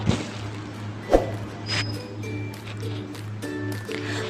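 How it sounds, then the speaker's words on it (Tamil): Sambar rice being stirred in a pot, soft wet squishing and scraping with a sharp knock of the utensil against the pot, fairly faint over a low steady hum. "நல்லா கிளறி விட்டுறலாங்க."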